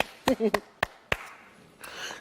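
A voice is followed by a few sharp hand claps, spaced unevenly and near, on a children's programme, with a softer hiss trailing after.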